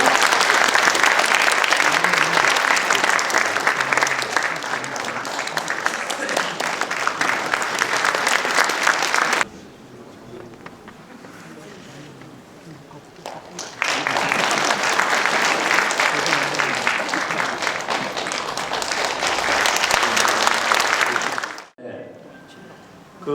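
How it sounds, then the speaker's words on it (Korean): Audience applause in an arts hall during a ceremony with flowers being presented: a long burst of loud, dense clapping that drops to a quieter murmur, then swells again before cutting off abruptly. "네, 큰 박수 부탁드립니다"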